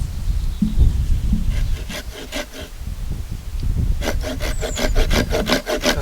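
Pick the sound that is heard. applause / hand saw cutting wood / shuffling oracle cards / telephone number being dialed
hand saw cutting wood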